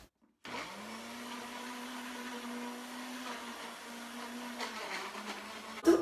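A countertop blender runs for about five seconds, blending papaya with water. Its motor whirs steady and loud, then stops abruptly.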